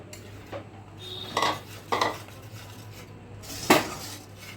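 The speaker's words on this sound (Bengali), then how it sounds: "বেসনটা দিয়ে ভালো করে নেড়ে নিতে হবে।" Gram flour being stirred with a spatula into a lentil curry in a pan, giving scattered scraping and clinking strikes against the metal over a low background hum.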